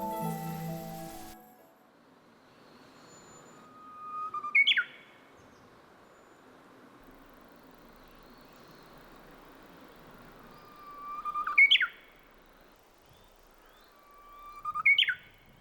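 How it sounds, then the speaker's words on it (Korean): A Korean bush warbler on a grassy volcanic oreum gives three clear, ringing whistled songs spaced several seconds apart, each a long held note rising into a sharp flourish, over a quiet, still background. "오름에서 휘파람 새 소리를 들으니까 참 좋네요."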